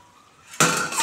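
A cooking pot lid comes off a covered pan of fish head and cabbage with a short metallic clink, and a loud, close rush of hissing sizzle follows at once and keeps going.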